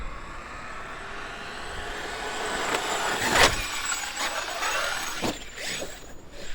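A Traxxas X-Maxx RC truck rolls on the throttle before a big jump, its motor whine rising steadily under outdoor wind noise, with a sharp peak midway.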